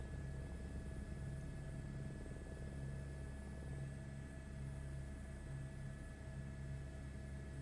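Helicopter in a flight simulator game: a steady, loud rotor drone with a low pulsing throb and constant engine whine, continuous throughout with no talking.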